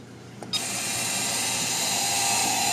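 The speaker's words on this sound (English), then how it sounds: "You can hear the auger in there feeding in the wood." A Green Mountain smart WiFi pellet smoker starts up and its auger feeds wood pellets, a steady close whirring hum that kicks in suddenly after a brief faint click and runs on evenly without talk.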